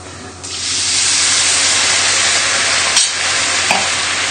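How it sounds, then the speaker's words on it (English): White wine hits hot risotto rice in a pan and bursts into a loud, sustained sizzle and hiss that holds steady close up, with a couple of brief clinks. "now we need to add in the glass of white wine"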